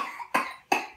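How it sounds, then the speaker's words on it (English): A child coughs twice in quick succession during a family feeding, two short sharp bursts close by with a brief pause between them. "Who coughed?"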